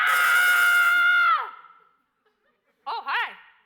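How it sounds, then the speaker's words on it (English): A woman lets out a loud, sustained scream in a wedding dress shop. It breaks off into a falling wail, then after a short silence come two brief, pitched vocal yelps or gasps. "Janet screams."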